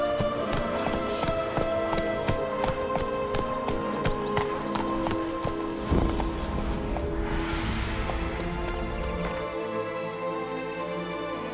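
Hooves of the horse Roach clip-clop in The Witcher 3, a steady rhythmic trot heard up close over game ambience and music, slowing and thinning near the end.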